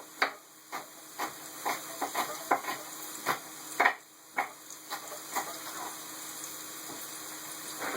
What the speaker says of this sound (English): I'm adding some extra jalapenos to cook first